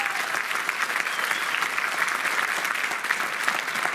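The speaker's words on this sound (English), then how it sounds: "Please give a round of applause for district attorney" Steady, dense clapping from an audience at a New York State Assembly swearing-in ceremony, greeting the district attorney, even and sustained throughout without talk.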